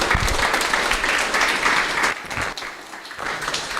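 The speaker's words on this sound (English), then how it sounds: "Let's have a nice round of applause for everybody." An audience at a panel discussion claps in a steady burst of applause that fades slightly toward the end, dense and moderately close.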